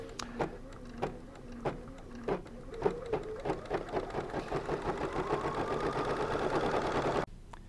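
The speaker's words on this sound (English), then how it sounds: "I will stitch that line out. It takes only about 30 seconds. It's just a little line of stitching." A BERNINA embroidery machine stitches out a short line on a fusible quilt label, beginning with spaced mechanical clicks that quicken into a steady, rising whir before stopping abruptly near the end.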